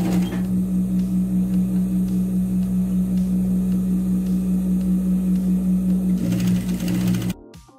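Sewing machine stitching the hem of bermuda shorts, a loud, steady close-up whir with a rapid even needle rhythm running without pause, then stopping abruptly near the end.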